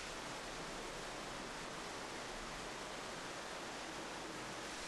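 A clear mountain waterfall tumbles down jagged rock cliffs, giving a steady, even rushing hiss with no voices, faint and distant.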